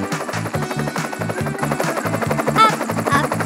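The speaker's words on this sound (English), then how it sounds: "I'm gonna come in my helicopter." Cartoon helicopter flying in a children's animation about a trip to Candyland, a steady rhythmic rotor chop loud and close throughout with a brief higher whistle partway, no talk.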